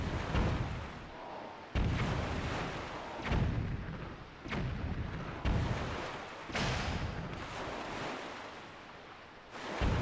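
Bomb blasts in The Legend of Zelda: The Wind Waker, a series of about seven booming, rumbling bursts spaced roughly a second or two apart, each with a long noisy wash that fades before the next, with no talking.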